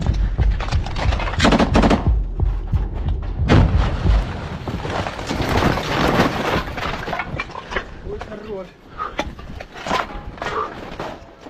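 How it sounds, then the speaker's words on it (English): Combat fire as a Ukrainian soldier shoots into a smoke-filled building while grenades are thrown inside, with loud, dense bursts of rapid gunfire and heavy booming blasts that go on almost without a break. "A Ukrainian soldier opens fire into the smoke-filled area, while his comrades toss grenades inside to assist."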